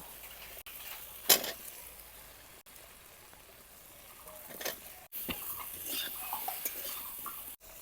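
Spices with chilli powder, turmeric and salt frying in oil in a pan for a fish curry, a steady close sizzle with scraping stirring and a few sharp utensil clinks against the pan.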